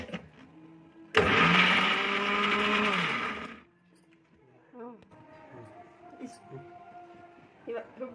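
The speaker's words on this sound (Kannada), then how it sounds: "ಎಲ್ಲ ಜಾರ್ಗೆ ಹಾಕಿ ಮಿಕ್ಸಿ ಮಾಡ್ತಾ ಇದೀನಿ" A kitchen mixer grinder blends masala in its jar for about two and a half seconds, a loud harsh whirring close by. Quieter clinks and handling follow.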